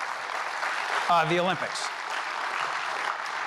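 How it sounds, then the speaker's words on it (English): An audience at a Long Beach city event applauds steadily, a broad sustained clapping that continues under a brief spoken phrase from a man. "let's give ourselves a big round of applause for hosting"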